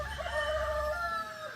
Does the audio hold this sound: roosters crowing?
yes